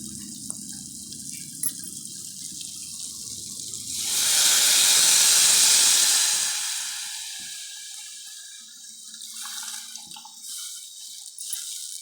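Plain water poured into vegetables frying for sambar, a loud rushing hiss and splash lasting a few seconds over quieter dripping and sizzling before and after.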